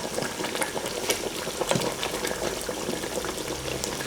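Cantonese lamb and potato stew simmering in a pot, with a dense, continuous bubbling and gentle liquid crackle at moderate level, steady throughout and unaccompanied by talk.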